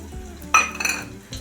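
Sprouted matki dropped into a pan of frying onion and tomato, a sharp clank of a utensil on the pan followed by a short burst of stirring and sizzling, close by.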